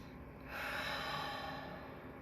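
A single deep inhale during a Pilates breathing exercise for neck pain, breathy and close, swelling through the middle of the clip and easing off toward the end, with no talking.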